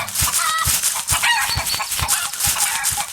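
Loud, close chicken clucking repeated in quick bursts, with low rhythmic thumps beneath, no talking, in the video game Super Egg Hunt.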